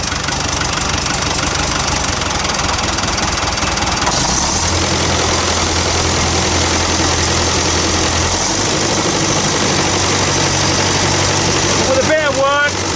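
An old David Brown bulldozer diesel engine idling evenly after an injector overhaul, a loud, continuous knocking rumble, with a voice talking over it briefly near the end.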